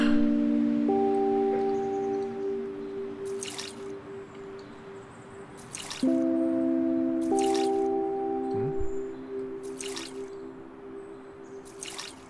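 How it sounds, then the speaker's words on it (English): Soft, evenly spaced water drips during flower watering in the game OMORI, set against sustained musical tones and a low background hiss. "I guess we should water the flowers first"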